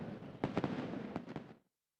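Sample fireworks display at Thrissur Pooram, a temple festival in Kerala: a rapid volley of loud, sharp bangs over a steady crackling roar, a cluster early and another later, then abrupt silence.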